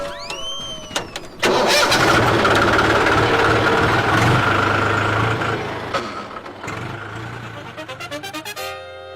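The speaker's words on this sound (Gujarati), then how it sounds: "હવે ટ્રેક્ટર ચાલુ કરો, ખેતર ખેડી નાખો" A tractor engine starting: a brief cranking, then the engine catches and roars loudly, settling into a rumbling idle before sputtering to a stop.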